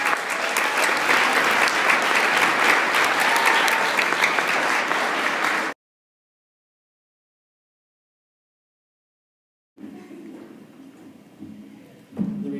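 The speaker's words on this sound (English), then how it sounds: "So let's give them a round of applause for that." An audience at a college poetry slam claps loudly and continuously for several seconds. The clapping stops abruptly into silence, then a faint room murmur returns.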